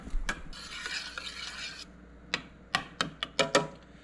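Boiling jam with pectin stirred in a pot, a burst of bubbling and scraping followed by a series of sharp spoon knocks against the pot's side, close and moderately quiet.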